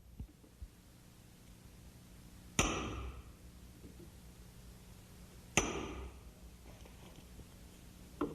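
A chisel pares wood fibres across and along the grain for door hinge recesses, two sharp close strikes each followed by a short scraping slice, set apart in a quiet room with a few faint taps.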